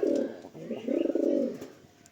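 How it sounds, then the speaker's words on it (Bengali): Pigeon cooing from a caged, heavily feather-footed pigeon, a low throaty coo repeated in two bursts, close and fairly loud, with no talking. "এই হচ্ছে পায়রাটা"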